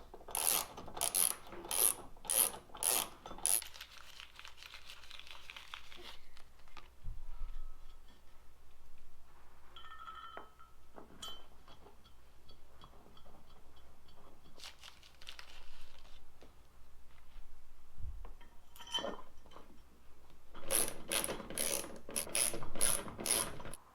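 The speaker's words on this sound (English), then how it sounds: "And then we need a 13mm socket wrench." A 13mm ratcheting socket wrench clicks in rapid bursts while tightening roof rack bolts on a Toyota 4Runner, with a quick run at the start and another at the end. Between them are quiet stretches of faint handling noise.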